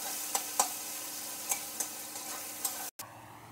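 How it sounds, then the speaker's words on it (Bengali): Chopped onions fry in oil until reddish, a steady close sizzle punctuated by a few light spatula taps and scrapes, cut off briefly near the end, with no speech. "একটু পেঁয়াজগুলো একটু ভেজে নেই।"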